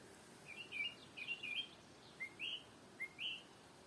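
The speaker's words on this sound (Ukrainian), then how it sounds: "Спів птахів послухаємо трішки." Birds chirp and whistle in short bright phrases, several calls spaced across a few seconds over a quiet, airy forest background in May.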